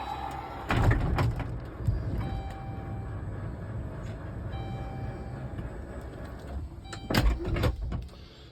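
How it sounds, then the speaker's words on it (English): A 2016 Dodge Grand Caravan mobility van retracts its power ramp with a steady motor whine and mechanical clunks, then its sliding door rolls shut with a firm thud, close by and with no talking. "It's going to bring the ramp in, shut the door, raise the kneel up."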